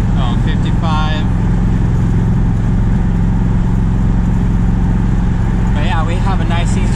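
A 1979 Corvette cruising on an early-morning highway, its steady engine and road drone loud and continuous throughout, with someone talking over it in a couple of short bursts.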